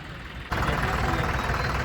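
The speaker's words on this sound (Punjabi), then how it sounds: "ਆਪਣਾ ਚੱਲਿਆ ਜੀ 5210 ਇਹ ਚੱਲਿਆ ਜੀ ਸਾਡਾ ਟਰੈਕਟਰ" A 5210 tractor engine runs steadily at close range, its low, rumbling idle starting abruptly half a second in and holding an even, loud drone to the end.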